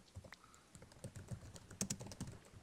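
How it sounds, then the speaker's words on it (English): Soft, quiet typing on a computer keyboard, a scattered series of faint clicks and clacks close by, with no speech. "I was just typing."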